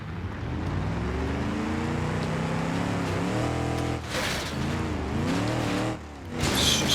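A taxi car driving in BeamNG.drive, its engine a steady close drone with rising and falling revs as gears change, alone and without talk.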